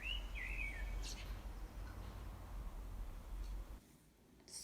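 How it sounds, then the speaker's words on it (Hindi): Birds singing outdoors, with a few short chirps and whistled notes standing out faintly over a steady low background rumble. "सुनिए बाहर चिड़िया कितना अच्छा गाना गा रही है।"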